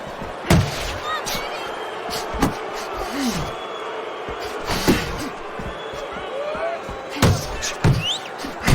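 Punches land in a computer-controlled boxing video game between Mike Tyson and Muhammad Ali, with scattered sharp thuds and slams over crowd noise while a commentator talks throughout.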